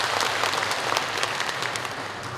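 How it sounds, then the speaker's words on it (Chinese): A concert audience in Ma'anshan applauds at a 2018 Yan Weiwen folk-vocal masterclass teacher-student concert, a full, steady wash of clapping from a large hall crowd that holds evenly throughout without speech. "我们应该为我们观众自己鼓掌和喝彩"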